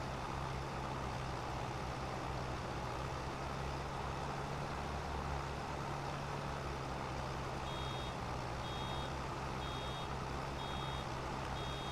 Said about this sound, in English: So this beeping noise that the baler makes